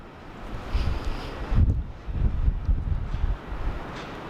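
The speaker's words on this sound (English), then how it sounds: "It is pretty windy as well." Steady wind rushing and buffeting a microphone outdoors at Sydney Airport, with low rumbling gusts rising and falling, loudest bursts around the middle; no voices.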